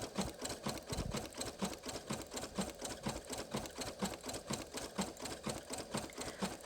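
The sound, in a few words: Brother PE 800 embroidery machine stitching a patch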